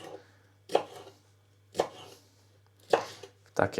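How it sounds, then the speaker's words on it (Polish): Knife chopping green, yellow and red bell peppers on a board: four sharp, distinct chops spaced about a second apart, close and alone over a faint low hum. "papryczka zielona, żółta oraz czerwona na pół. Pokażę na pół i kroję w takie"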